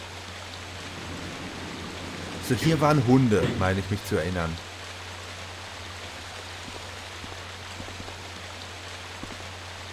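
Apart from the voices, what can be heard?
waterfall in the video game Resident Evil Director's Cut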